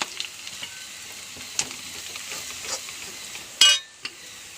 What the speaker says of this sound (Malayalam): അപ്പോൾ എണ്ണ കാഞ്ഞു. വെളുത്തുള്ളി ചുവന്നുള്ളി ഇടുന്നു.